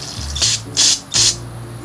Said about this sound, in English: I'm just gonna spray it down.